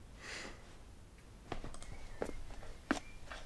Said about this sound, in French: c'est toujours mes bruits de pas